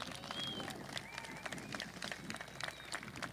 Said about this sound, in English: To all those veterans, let's give them a big round of applause.